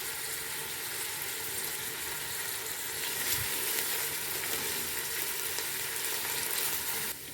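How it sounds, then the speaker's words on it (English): Onions frying with a bay leaf in a pan for pilau give off a loud, continuous hissing sizzle throughout, with occasional stirring scrapes close by. "So I'll mix the onions until they are a bit golden."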